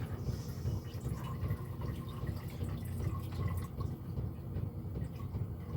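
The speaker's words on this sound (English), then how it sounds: "these little drips like that accumulate" Water drips steadily and slowly fills a container aboard an off-grid houseboat on a frozen river, a faint continuous trickle over a low background rumble.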